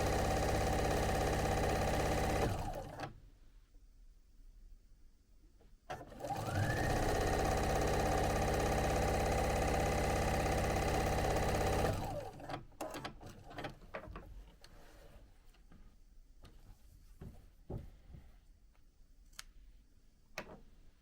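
Sewing machine with a shortened stitch length stitching down chenille binding on a striped pillow, running steadily in two loud bursts separated by pauses, followed by quieter ticking and handling noises.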